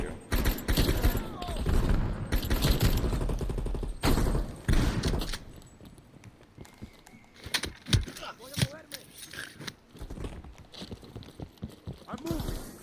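Call of Duty Black Ops Cold War firefight: a loud cluster of rapid gunshots at first, then scattered, fainter shots and impacts, with voices talking over parts of it.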